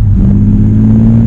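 Infiniti G35 with a muffler delete revving, a loud, steady deep exhaust drone with strong low rumble throughout, close by and alone.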